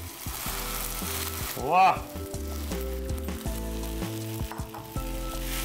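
Boiled rice sizzles steadily as it is stir-fried in a hot pan in a kitchen. The frying stays loud and continuous under faint background tones, and one voice briefly exclaims.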